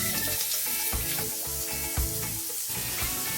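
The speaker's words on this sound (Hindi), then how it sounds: "तेल जब हो जाएगा गरम तो इसमें ऐड करेंगे आधा छोटा चम्मच जीरा, और उसके बाद वो बारीक कटा हुआ प्याज भी" Cumin seeds and finely chopped onion sizzle in hot oil for aloo shimla mirch, a steady close crackle with stirring clinks and scrapes throughout.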